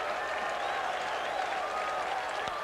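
A large baseball stadium crowd applauds and cheers steadily through a Cardinals versus Mets game in 1989, a dense continuous wash of clapping with faint commentary underneath.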